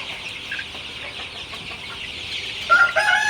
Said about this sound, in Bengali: তো আমার সোনালি সুপার হাইব্রিড মুরগির বাচ্চা আপনারা দেখতে পাচ্ছেন